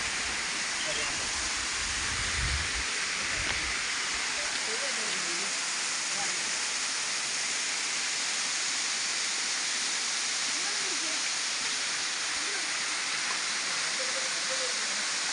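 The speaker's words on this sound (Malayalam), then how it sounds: "തുമ്പി തുള്ളുംപാറ വെള്ളച്ചാട്ടം തുഷാരഗിരിയിലെ ഏറ്റവും ഉയരത്തിലുള്ളതും ഏറ്റവും വലുതുമായ വെള്ളച്ചാട്ടമാണ് ഈ വെള്ളച്ചാട്ടം" Thumbi Thullumpara waterfall at Thusharagiri, the tallest and largest falls there, gives a steady, unbroken roar of rushing water with no pauses across the whole stretch.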